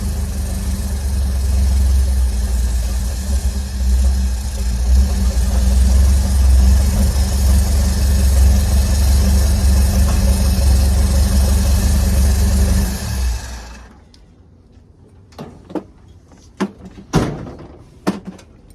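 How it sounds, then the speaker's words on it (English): A 1976 Highboy truck engine idles with a steady, loud rumble while spray is applied at the intake gasket; after about thirteen seconds it cuts out, leaving a few sharp knocks and clunks nearby. "Listen in, I'm gonna spray on this, right here on this side of this intake gasket,"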